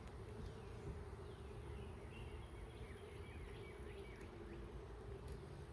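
Honey bees buzz steadily around an open hive during an inspection, a continuous low drone at close range with a few higher buzzing insect passes.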